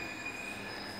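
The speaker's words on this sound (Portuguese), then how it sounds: "Olha o trem." A train passes near a backyard, its wheels squealing on the rails in a steady, high metallic screech over a rumbling wagon roar, loud and continuous with no talk.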